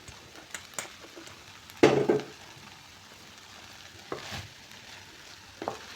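Rice stir-fried in half a spoon of oil for homemade chicken fried rice gives a steady soft sizzle. Spatula scrapes and stirs recur through it, with a louder pan clatter near the start.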